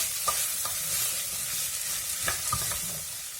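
Food stirred in a pot over low heat gives a soft steady sizzle with a few distinct scraping taps of the spoon, close and alone.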